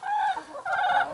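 Americana Easter Egger hens give two quick, close clucking calls, each a short throaty note separated by a brief pause.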